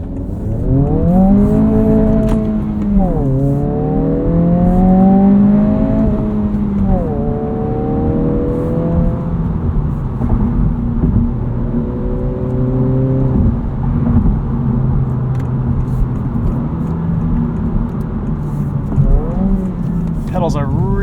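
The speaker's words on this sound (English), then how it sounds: "this sounds like a much quieter vehicle" Cabin of a 2025 Honda Civic Si on the road, a steady low tire and road hum with rising and falling engine tones as it accelerates and shifts, while someone talks over it.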